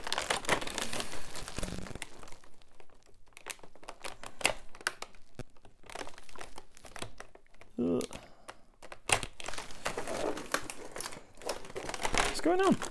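Plastic packaging crinkles and crackles up close as a McFarlane Toys Space Marine Primaris Intercessor action figure is pulled from its wrapping, in irregular rustling bursts, with someone talking throughout.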